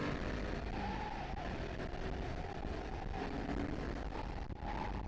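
A Royal Enfield Himalayan 450 motorcycle accelerating at around 60 miles an hour, a steady engine drone blended with heavy rushing wind noise, continuous and loud throughout.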